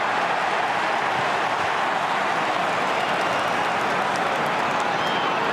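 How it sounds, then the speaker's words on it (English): North Melbourne Kangaroos supporters in a big football crowd at a 2011 match against Carlton raise a constant, loud, distant roar that holds steady without breaks. "It's been a while since the Kangaroo fans have made such a noise"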